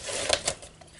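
A paper trimmer blade slicing through a sheet of paper, heard as a brief close scraping swipe with a couple of sharp clicks over about a second, with no talk.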